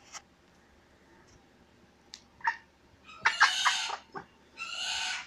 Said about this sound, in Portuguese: E o galo tá gritando, Zezé.